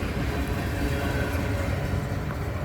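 A long coal train rolls along railroad tracks in a steady, dense rumble and clatter, close and unbroken, with no voices.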